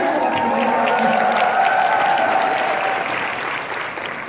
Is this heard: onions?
no